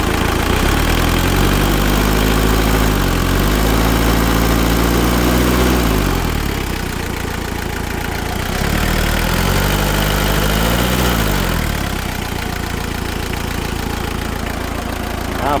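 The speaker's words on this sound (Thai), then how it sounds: "เครื่องยนต์ทำงานปกติ" Diesel engine of a 1997 Mitsubishi L200 pickup idling close by, a steady low throbbing drone with two brief rises in revs that settle back to idle, no voices.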